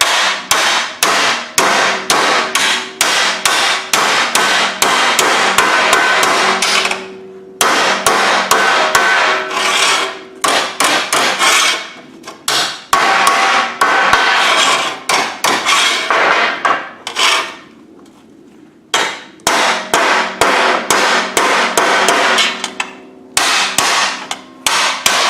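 Loud, repeated hammer blows on sheet metal being knocked down for a whale sculpture, struck with a heavier hammer; sharp ringing impacts come in rapid bursts with brief pauses between runs, close and alone without talk.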